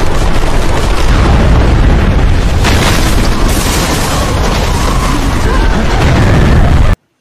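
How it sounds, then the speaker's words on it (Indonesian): A bomb blast in a Rambo film tears through part of a forest, a loud, sustained booming roar with rolling rumble that lasts several seconds before cutting off abruptly. "Seketika itu juga bom langsung meledak dengan sangat dahsyat hingga menghancurkan sebagian"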